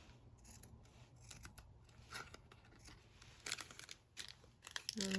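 Scissors snip through crinkly glassine bags for junk journals, giving a run of close, crisp cuts and papery rustles in an irregular rhythm over a faint steady hum.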